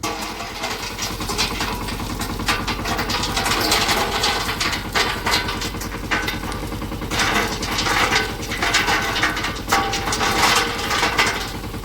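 A farm tractor engine runs steadily for about twelve seconds, close and loud, with a continuous mechanical drone and rattling clatter throughout.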